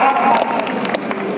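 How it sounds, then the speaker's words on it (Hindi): Audience clapping fills the hall at a Hindi poetry gathering held by a lawyers' association, a dense, steady burst of applause lasting a moment and sounding fairly close. "एक बार जोरदार तालियां।"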